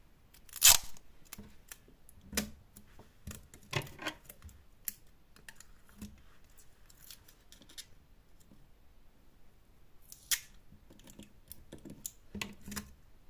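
Sticky tape crackles and rips in short, sharp bursts with quiet pauses between, close by and fairly soft.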